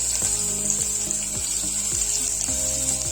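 Two chopped onions frying in heated oil for a spicy mutton curry, giving a steady close sizzle with soft bubbling and a few light scrapes, no talking.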